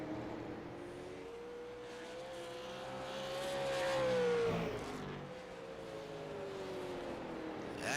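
Race cars circle a racetrack lap after lap, engine drone rising and falling as cars pass near and fade away, continuous and moderately loud with a commentator faintly beneath.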